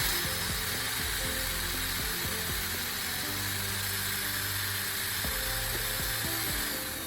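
A drill grinds the edge of a spark plug round, a steady, dense, close-up grinding whine with a low motor hum running continuously throughout.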